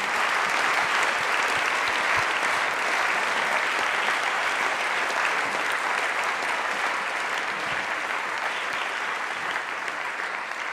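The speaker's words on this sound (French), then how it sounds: "Cet applaudissement, c'est le remerciement de nous tous." Sustained applause from a student audience at Sciences Po for Laurent Fabius, a dense, even roar of many hands clapping that holds steady for about ten seconds in a large room.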